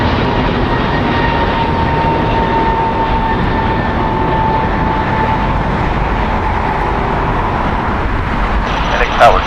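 An American Airlines Airbus A321neo jet rumbles at Los Angeles International Airport, a steady loud broadband roar holding throughout with a faint whine above it.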